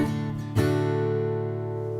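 Major chord played on a sustained instrument: a rich held chord, freshly restruck partway through and ringing on steadily, close and alone.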